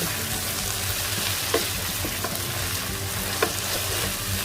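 Celery stir-fry with oyster sauce sizzling in a pan, a constant crackling fry close by with a couple of sharp spatula scrapes and taps, no talking.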